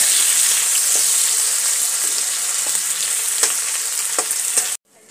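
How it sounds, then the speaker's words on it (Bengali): Dried fish frying in hot oil with turmeric and salt gives a loud, continuous close-up sizzle with faint crackles, ending abruptly just before the clip finishes. "এইবার মাছটাকে খুব ভালো করে লাল লাল করে ভেজে নেব।"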